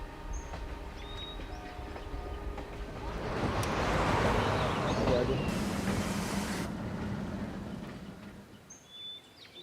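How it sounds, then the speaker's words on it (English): A passenger train slows while pulling into the town of Digboi in Upper Assam, its rumble and rolling clatter swelling to a peak midway and then fading, with faint birdsong in the background. "The train is slowing down, and we realized that we have entered the town of Digboy."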